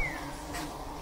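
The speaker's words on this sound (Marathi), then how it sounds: "इकडे अनेक मधमाशी आहेत." Bees buzzing around flowers in a sacred grove of fragrant surangi trees, a faint, continuous low drone close by, with no voices.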